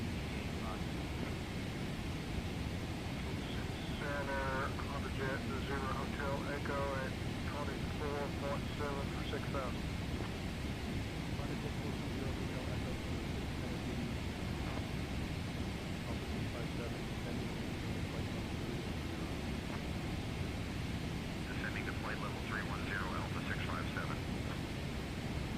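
Steady cabin drone of a Boeing 777-300 airliner cruising at 37,000 feet in a flight simulator game, a continuous broadband roar that persists with spoken announcements heard above it.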